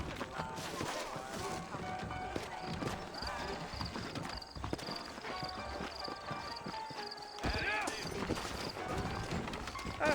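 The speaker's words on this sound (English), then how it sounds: "I got the horses saddled up and ready out front" Horse hooves clip-clop steadily in the video game Red Dead Redemption, over a busy, layered background with occasional rustles and clanks, giving a continuous galloping rhythm.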